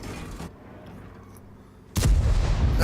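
An E75 tank in World of Tanks firing a high explosive shell, a sudden loud cannon boom after a quieter stretch of low engine rumble.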